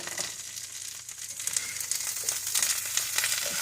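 Brussels sprouts sizzle and crackle in a hot pan while being stirred, a steady close frying hiss with scraping and crinkly pops, alone without talk.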